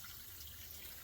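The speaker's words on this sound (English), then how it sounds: "turned the hose up a little bit because I just want to run the water there for a little bit and for it to pool" Water runs steadily from a garden hose onto a mounded chicken compost pile, a soft, constant wash that stays faint and even throughout.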